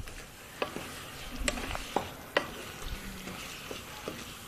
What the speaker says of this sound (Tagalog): Then, halo lang po ng halo.